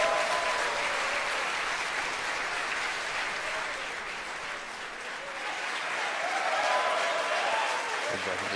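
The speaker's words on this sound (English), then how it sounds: "you hear the applause here from SpaceX headquarters in Hawthorne, California" Applause and cheering fill a crowded room at SpaceX headquarters in Hawthorne, California, during the March 2018 HISPASAT 30W-6 rocket launch, a steady, dense roar of clapping that carries on throughout.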